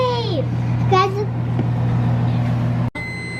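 A microwave oven melting butter and marshmallows gives a steady, low electrical hum under a voice, ending with a sharp click.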